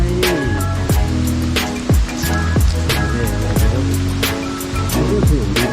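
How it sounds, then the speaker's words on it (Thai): Water rushes loud and close at Ton Sai waterfall in a Phuket forest. The steady splashing continues throughout, with repeated sharp hits and sliding tonal sounds layered on top. "น้ำตกโตนไฟ"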